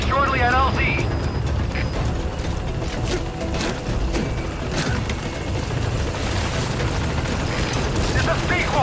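Support helicopter from the video game Metal Gear Solid 5 arriving, a loud steady rotor and engine roar filling the scene with mechanical clatter, alongside game voices and effects.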